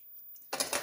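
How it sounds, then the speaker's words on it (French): Scissors cut away excess paper on a small shabby-style folio album, a single crisp, close snipping burst after a brief quiet moment. "Et vous allez découper ce qui dépasse,"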